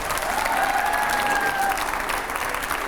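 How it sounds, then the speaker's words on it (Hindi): Audience applause at a televised interview event, dense and steady clapping from a crowd throughout, loud and sustained without a break. "तो जोरदार तालियां पहले।"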